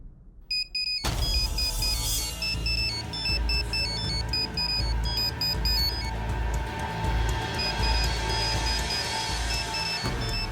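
A phone rings with a repeating electronic ringtone pattern, loud and close over a busy background of low rumble, announcing a call from kidnappers in a Telugu TV serial drama.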